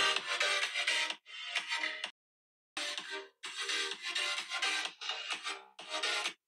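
A custom ringtone, trimmed from a song, plays on a Xiaomi MIUI phone during a test call. The bursts are bright and musical, separated by a full silence of about half a second, then the ringtone repeats in phrases.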